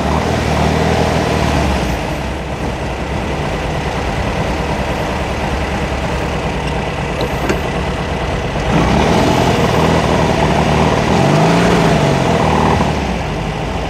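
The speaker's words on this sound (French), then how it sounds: "On sent bien que le moteur est à nu" A Rewaco HS4 Chopper trike with an exposed engine runs on the road, its engine a loud, steady, close rumble that continues throughout, with a brief rising whine near the end.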